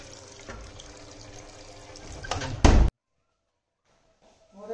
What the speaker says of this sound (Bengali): এখন দেখো কি জল পড়ছে